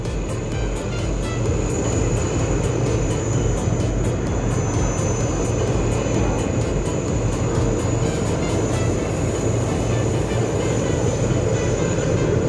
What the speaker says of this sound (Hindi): 8 जहाज़ इस वक्त जो है वो फ़ज़ा में ख़तरनाक करतब जो है वो दिखा रहे हैं